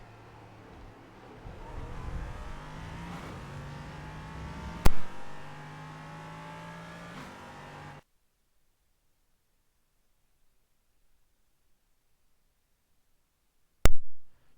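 LMP3 prototype race car in the iRacing sim lapping Spa-Francorchamps, its engine droning loud and steady with rising and falling revs for several seconds, then cutting to near silence before a brief sharp burst at the end.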